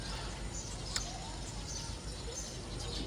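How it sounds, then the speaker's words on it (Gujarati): Small sparrows chirping in trees on a hot day, a faint, steady scatter of tiny tweets over a constant background hiss. "બીજા નાના એવા ચકલાઓ બોલે છે."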